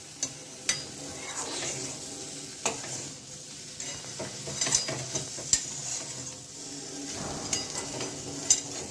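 Potato fry stirred in a hot pan, a steady sizzle under repeated scraping and clicking strokes of the spoon against the pan, close and moderately loud with no talking.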